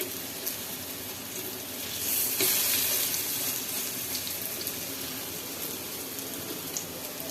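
Bitter gourd leaf fritters fry in a little oil, giving a steady, even hiss of sizzling that swells briefly partway through and carries on without a break.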